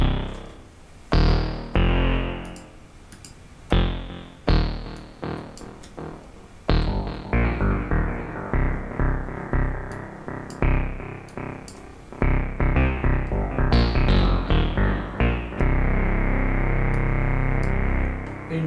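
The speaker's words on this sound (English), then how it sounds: "Space Echo from Roland." An analog Arturia MicroBrute synthesizer runs through a Roland RE-201 Space Echo tape delay, playing a run of loud, distorted notes. Each note carries echoing tails, and a sustained, smeared tone builds toward the end, with no voices.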